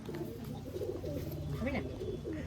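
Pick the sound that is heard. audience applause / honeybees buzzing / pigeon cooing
pigeon cooing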